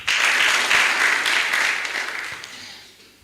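Audience applause at a ward candidates' debate, a dense burst of clapping from a sizeable crowd that swells at once and gradually tapers away over three seconds, no voices over it.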